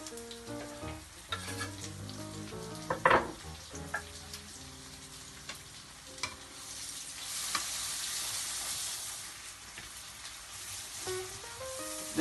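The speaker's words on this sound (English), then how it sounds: "add the chopped onions to it and fry it lightly" Chopped onions fry lightly in a pan for chicken, giving a steady soft sizzle with a few clattering stirs and taps early on, then a broader hiss swelling in the middle; close and fairly quiet, no voices.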